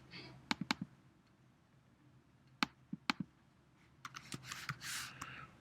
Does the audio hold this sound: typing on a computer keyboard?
yes